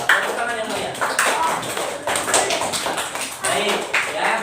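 Elementary schoolchildren in an Islamic school classroom clap for a classmate who has just recited Surah Al-Falaq, with uneven bursts of hand claps and taps mixed with a teacher's voice and children talking.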